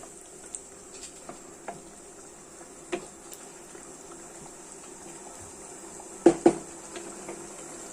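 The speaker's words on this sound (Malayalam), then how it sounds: "ഇത് തിളച്ച് വരുന്നുണ്ട്." A pan of chicken curry bubbles softly at a gentle boil, a faint steady simmer with scattered small pops and a couple of louder clinks near the end, no one talking.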